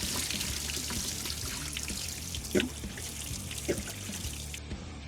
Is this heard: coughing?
no